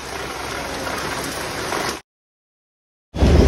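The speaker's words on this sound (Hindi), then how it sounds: "ये देखो तो इतनी तगड़ी बारिश हो रही है जी ऐसे।" Dense, steady hiss of heavy rain pouring down near Koderma railway station, abruptly cut off by a second of silence before the downpour returns loudly.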